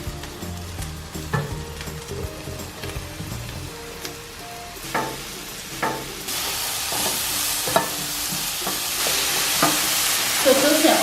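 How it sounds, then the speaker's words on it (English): Mushrooms and spring onions fry in a pan, a soft sizzle broken by utensil taps and stirring clicks that swells into a louder, steady hiss toward the end. "So toast your onions and mushrooms."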